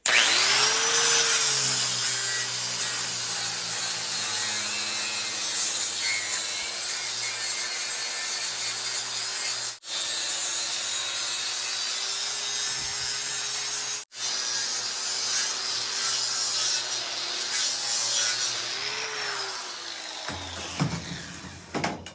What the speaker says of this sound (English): this wheel spins in this direction, so I'm gonna bring the sparks towards me and I'm gonna rake this off down even with that wood.